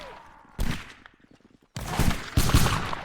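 Rifle fire in a shooter game set among 95th Rifles-style combat: loud bursts of rapid shots and heavy blasts crowding together, broken by a short quieter stretch of scattered distant fire.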